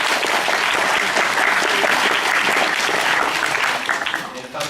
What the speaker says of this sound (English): everybody give a round of applause to Moscow.